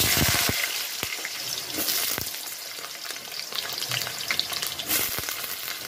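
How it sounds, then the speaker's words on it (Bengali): Potatoes frying in hot mustard oil in a wok give off a steady, close sizzle throughout, broken by a few sharp utensil clinks and stirring scrapes. "তেল গরম হয়ে গেছে, এবার আমি আলুটাকে ভেজে নেব।"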